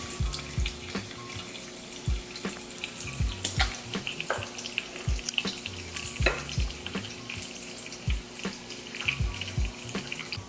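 Bacon sizzles and crackles in a pan while breakfast cooks, with repeated clinks and scrapes of a utensil and a steady hiss underneath, no talking.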